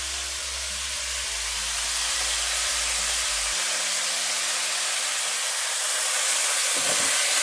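Chicken tikka pieces fry on a high flame in a pan, giving a steady, loud, close hissing sizzle that swells and holds throughout, with a faint low hum fading partway.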